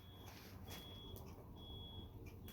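Faint reversing beeps from a school bus outside, a few short, high, evenly spaced tones that stop and resume against quiet indoor background, with no speech.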